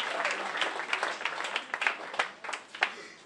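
A church congregation applauds during a Sunday morning service, a dense, moderately loud round of clapping that swells and stays steady, with a few sharp individual claps close by.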